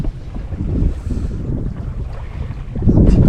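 Sailboat under sail off the Balearic Islands, steady rushing wind and water noise with low buffeting against the microphone, swelling louder near the end, no talk.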